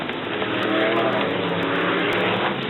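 BriSCA F1 stock cars race at Brafield in the 1983 European Championship, a loud, continuous roar of several engines revving hard and sweeping past with no pauses.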